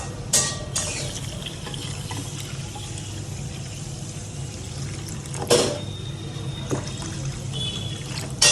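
Water poured onto sugar in a kitchen pan or bowl, a steady faint trickling pour running throughout with a couple of brief louder splashes near the start and middle, no talking.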